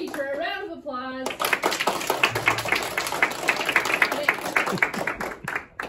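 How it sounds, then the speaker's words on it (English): A classroom of students claps for their teacher, with steady, rapid hand claps layered into a lively round of applause that runs for several seconds after a brief spoken prompt. "Okay, give your teacher a round of applause."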